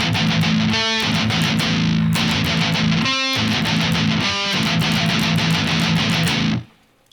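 A loud, distorted electric guitar plays the next part of a song, dense sustained chugging broken by a few brief pauses with ringing harmonics, then stopping abruptly near the end.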